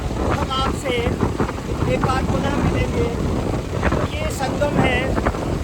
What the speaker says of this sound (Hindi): गंडकी का हवा बहुत तेज़ है